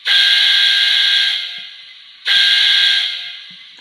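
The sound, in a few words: Soundtraxx Econami DCC sound decoder steam whistle, Hornby A4 model locomotive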